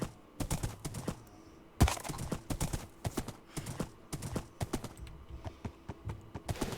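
Horse hooves clip-clop in Minecraft, a run of quick, close, dry knocks that sound with little pause over a low ambient bed, with a sharper thump partway through.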